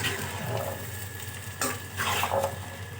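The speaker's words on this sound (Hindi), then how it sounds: "अब हम साबूदाने को चलाएंगे।" Soaked sago pearls being stirred in a pan, a steady wet sizzle with soft scraping and swishing spoon strokes, close and continuous.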